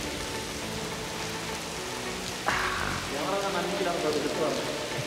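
Artificial rain pouring steadily in a Dubai rain room, a dense close hiss of falling water with droplets spattering, briefly intensifying midway while people talk underneath.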